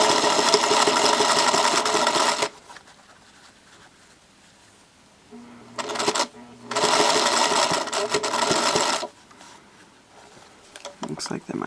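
A sewing machine stitching fabric runs in loud bursts, about two and a half seconds, then again for roughly four seconds, with quiet pauses between, close to the microphone.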